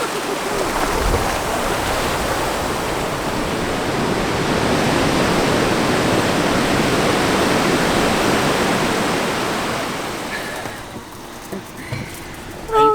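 Pacific Ocean surf breaking on a beach in Mexico makes a loud, continuous roar for most of the stretch, then eases toward the end, where a few small scattered sounds appear.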